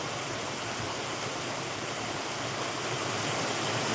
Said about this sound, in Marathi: जोरदार पाऊस सुरू झाला आहे